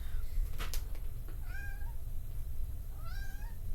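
A cat meows twice, clear and fairly close, with rising-then-falling cries separated by a pause, over a low steady background rumble.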